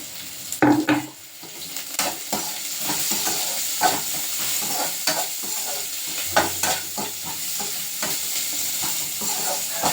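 Tempering spices with salt crackle in a hot pan while being stirred, a close sizzle broken by repeated scraping and clinking strokes, with a sharper clatter near the start.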